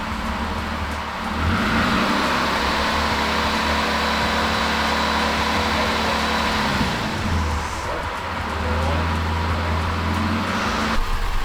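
A Toyota Land Cruiser engine running on its first start after a rebuild, a steady close rumble that swells as it is revved and then settles back to a smooth idle, with no talk over it.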